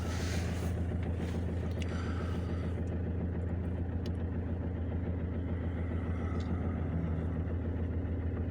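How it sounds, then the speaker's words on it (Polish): Opel Vivaro van engine idling, a steady low rumble with faint wind noise, continuous and fairly quiet throughout. "Chodzi sobie na wolnych obrotach."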